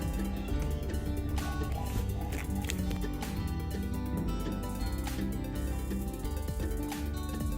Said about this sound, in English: Now we are washing our salmon with warm water.